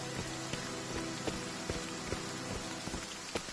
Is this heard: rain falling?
yes